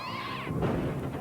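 A cartoon cat's meow from a late-1990s children's TV broadcast, one drawn-out yowl that bends downward, loud and close over a dense, noisy soundtrack.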